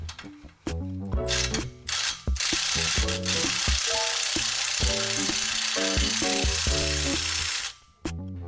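A ratchet wrench clicks in quick repeated bursts while tightening the locking nuts that join the downpipe to the upper catalytic converter on an Infiniti Q50, close and loud, with brief pauses between strokes.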